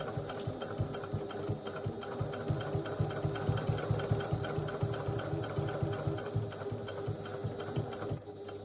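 A sewing machine stitches a three-zip crossbody bag, running in a fast, steady, rhythmic whirr of needle strokes that continues loudly and evenly for several seconds, close up.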